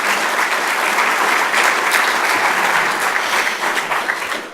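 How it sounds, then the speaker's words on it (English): Applause from an audience at a university alumni honours event, loud, dense and sustained clapping that tapers slightly at the end. "So you guys give them a big round of applause."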